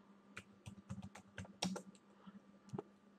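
Quick, irregular clicks of a computer keyboard as a search is typed into a web browser, close and crisp against a quiet background with a faint steady hum.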